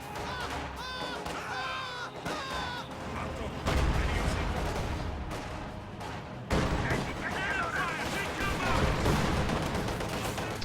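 Mortar blasts and rifle and machine-gun fire crackle through a strategy game battle, dense bursts and heavy thumps recurring throughout, with loud impacts near 3.7 and 6.5 seconds under continuous game voice chatter.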